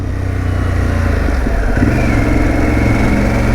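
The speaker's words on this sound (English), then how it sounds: "Let's try this acceleration. We're gonna do second gear pull." A Harley-Davidson Pan America motorcycle pulling hard in second gear in sport mode, its engine a loud, close, throbbing roar that climbs in pitch and intensity as it accelerates, with no talking.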